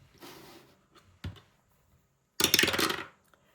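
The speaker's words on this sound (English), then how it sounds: "and then a roll of the dice" Dice are rolled during a board-game money challenge: a few light taps, then a bright, loud clattering burst of about half a second as they tumble and settle, with no talking.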